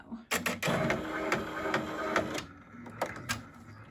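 A PR655 embroidery machine stitching a patch runs with a steady mechanical whir and rapid needle clatter, with sharp clicks near the start and a lighter tapping rhythm after it slows toward the end.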